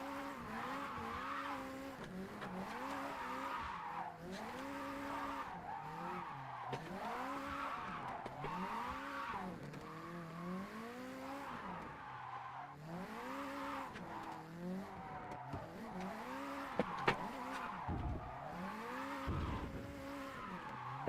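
A car drifts in a racing video game, tires skidding and squealing in long rising and falling sweeps over a revving engine, repeated slides through the whole stretch with no talk.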